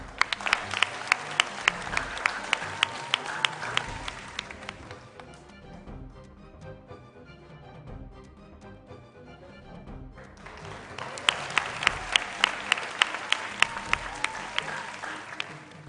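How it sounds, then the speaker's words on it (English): An audience at a school quiz competition applauds for the competing schools: dense, steady clapping that dips in the middle and then swells again, with faint crowd noise underneath. "competing schools for the competition, ladies and gentlemen, with a round of applause."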